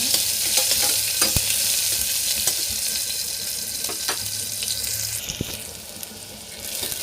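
Tomato and onion frying with ground masala in a pan for avarekai curry, a steady sizzle broken by scraping stir strokes throughout, close and fairly loud, with no voices.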